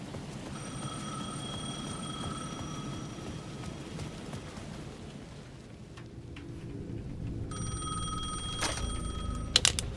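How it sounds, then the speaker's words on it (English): Payphone ringing at the edge of a city plaza in the video game Alan Wake 2, repeated electronic bell tones under a steady rain-like ambience, with a louder burst of ringing near the end. "The payphone at the edge of the plaza was ringing again."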